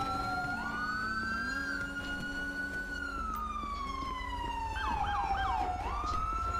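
Police and ambulance sirens wail together in GTA V with the LSPDFR police mod, rising and falling loudly and steadily over a low engine rumble for the whole stretch, with a sharper whoop near the end.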